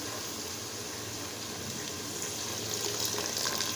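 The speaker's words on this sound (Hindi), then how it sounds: "तो अब मैं इसके अंदर हाफ गिलास पानी का ऐड" Half a glass of water poured into a pan of red lobia (rajma) curry, a steady close splashing pour that grows slightly louder toward the end, with no talk.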